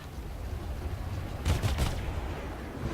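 Spaceship guns fire in the Star Citizen game aboard the Cutlass, a short burst of three quick shots fired like triplets over a steady engine hum, fairly close and moderately loud.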